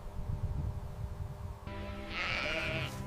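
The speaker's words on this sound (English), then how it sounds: "This journey begins with sheep, nature's living source of wool" A sheep bleats once in a long, wavering, fairly loud call that rises out of steady low outdoor background noise after a stretch with no voice.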